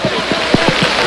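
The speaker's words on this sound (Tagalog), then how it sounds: "sobrang lakas ng buhos ng ulan." Heavy rain pours down during flooding where residents are stranded on rooftops, a dense steady hiss with some low thumps throughout.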